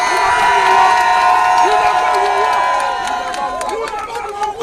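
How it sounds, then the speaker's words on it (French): A crowd at a Geneva gathering of Cameroonian activists applauding and cheering for themselves, loud dense shouting and whooping with clapping beneath, a lively mass of voices close by. "Applaudissez pour vous-même."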